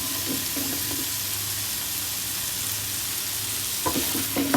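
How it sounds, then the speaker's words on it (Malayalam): Washed cauliflower is stirred through a frying masala coating, making a soft sizzle with scraping stirs of the spoon that grow louder and more clattery near the end. No one speaks. "ഇനി എല്ലാ ഇതിലേക്കും ഈ കോട്ടിങ് പിടിക്കുന്ന പോലെ നന്നായി ഇളക്കി കൊടുക്കാം"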